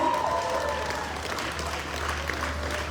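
An audience at a wedding celebration gives a round of applause for an event engineer, a dense, even patter of clapping over a low steady hum from the venue's sound system.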